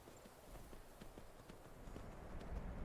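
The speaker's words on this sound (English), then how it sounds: "Oh, that's another horse." Steady horse hoofbeats in Skyrim clop along in an even rhythm, fairly faint, over a low background hum that swells slightly toward the end.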